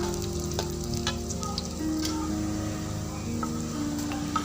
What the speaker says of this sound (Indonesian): Bawang merah dahulu. Ini sampai harum, kira-kira mungkin 3 menitan.